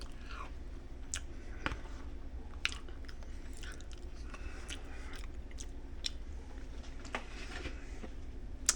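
Someone chews a thick keto pancake made from a nutty, grainy Birch Benders carb-friendly mix, giving soft, close, irregular crunchy bites and squishes over a low steady hum, with no talking.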